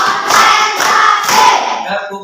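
A classroom of students clapping hands in response to a teacher's clap count, three loud close bursts of clapping in quick rhythm that fade at the end.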